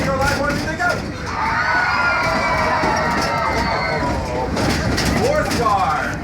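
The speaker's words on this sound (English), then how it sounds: "throw your hands in the air and yell and scream and holler like this is the best day of your life" Train passengers in a railcar yell, scream and cheer together, a loud, sustained crowd roar that swells and continues for several seconds over the rumble of the moving train.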